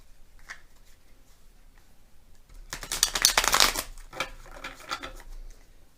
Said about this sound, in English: I'll get these shuffled a few times